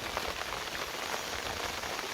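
Steady rain pattering densely on leaves along a misty mountain trail at Doi Pui, an even close hiss of countless drops with no voices.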